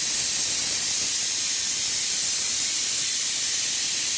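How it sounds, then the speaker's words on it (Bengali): Snake gourd goes into water heating in a hot wok for steaming, giving a loud, steady, close hiss that stays even throughout with no pauses or voices. "তো এখন আমি কড়াইতে জল বসিয়ে দিয়েছি। চিচিঙ্গাটা আমি এখন দিয়ে দেবো, আমি অল্প একটু ভাপিয়ে নেব।"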